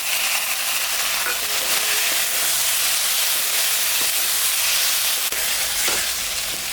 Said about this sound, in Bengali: খুব সুন্দর কষানো হয়ে গেছে